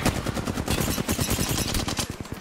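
Rapid automatic fire from a Flatline rifle in Apex Legends, a dense, loud, continuous burst of shots with a steady rhythm throughout, no talking.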